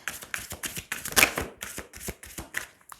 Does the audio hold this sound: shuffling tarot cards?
yes